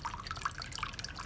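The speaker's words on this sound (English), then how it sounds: "This is my homemade waterfall" Water trickles and drips steadily through a homemade DIY fountain built from plastic with sand in it, a close, continuous patter of small drops with no voices.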